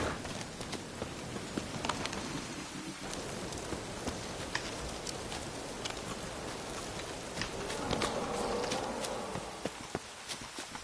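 Roach, the horse in The Witcher 3, gallops in a steady run, its hoofbeats quick and rhythmic at moderate distance over an outdoor ambience of insects and wind.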